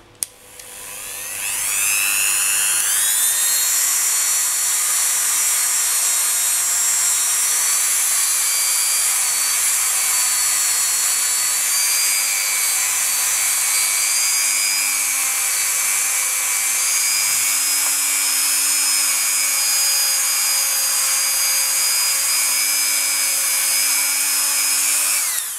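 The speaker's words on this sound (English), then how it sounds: "Then I'm going to grab a buffing wheel and a Dremel. My Dremel is a Dremel 3000. And we will proceed to buff." A Dremel 3000 rotary tool with a buffing wheel polishing polymer clay earrings: a steady high-pitched whine that spins up within the first few seconds and holds close and loud throughout.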